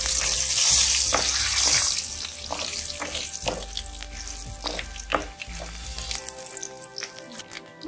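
Whole red chilies and bay leaves frying in oil, stirred in the pan: a strong close sizzle with repeated sharp scraping and tapping strokes of the spoon.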